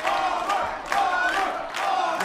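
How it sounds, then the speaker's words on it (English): A crowd at a World Poker Tour celebrity invitational table roars and cheers for a player, a loud swelling wave of excited voices in a few bursts. "They're cheering for the Bomber"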